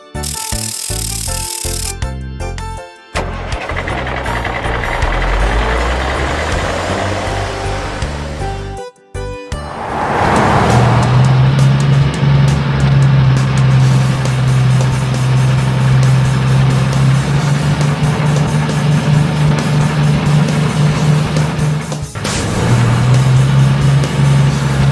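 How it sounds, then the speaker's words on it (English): A dumper truck engine, first heard in choppy bursts and then idling as a steady low rumble with a constant hum, close and loud, with no voices. "Dumper truck."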